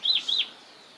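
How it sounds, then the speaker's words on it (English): Two quick high bird chirps in early morning, each a bright rising-falling whistle, close together and then fading into quiet ambient hiss. "Birds already singing"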